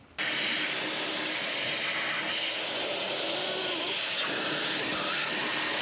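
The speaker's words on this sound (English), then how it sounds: "With the shop vac, I'm going to vacuum the intake ports" Shop vac vacuuming the intake ports of a HMMWV 6.5L diesel engine switches on and runs as a loud, steady, close roaring whoosh throughout.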